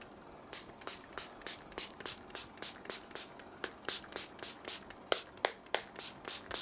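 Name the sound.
face spray being sprayed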